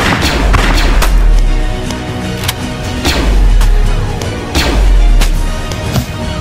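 Heavy booming shotgun blasts in a comedic Lego stop-motion battle scene, several loud thumping reports a second or so apart over a rumbling background.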